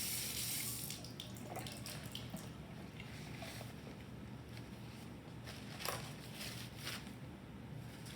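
Running tap water rinses solution off a clipped tube in a lab sink, a steady close wash with small splashy changes as the tube moves under the stream, and no talking.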